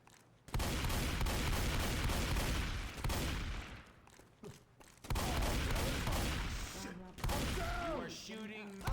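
Rapid bursts of gunfire from the Left 4 Dead 2 video game, loud and dense with brief pauses between volleys, and a voice talking over parts of it.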